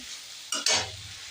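Mustard paste stirred into a pabda fish curry in a pan, two quick scraping strokes of a spoon over a steady gentle sizzle, close and brief.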